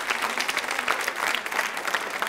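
Steady, dense applause from an audience at a women's association quiz show, clapping for a contestant without a break and with no clear talking over it.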